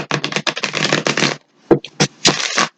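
A tarot card deck is shuffled up close, giving quick papery riffling bursts, then a pause and a few softer separate shuffles.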